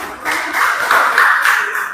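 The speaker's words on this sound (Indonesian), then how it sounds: "Tepuk tangan ya" A classroom group claps after students share suggestions and testimonials, a fairly close, steady patter of hands lasting a couple of seconds.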